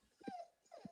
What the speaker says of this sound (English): I'm sorry, my dog.